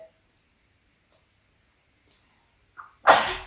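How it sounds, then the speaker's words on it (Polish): A person sneezes once, loud and close, a sharp burst near the end after a quiet stretch with a brief intake of breath just before. "Na zdrowie."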